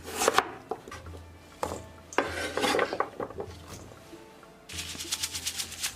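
Knife chopping white radish into strips on a cutting board, a run of sharp, rapid close-up knocks in several bursts, with brief pauses between them.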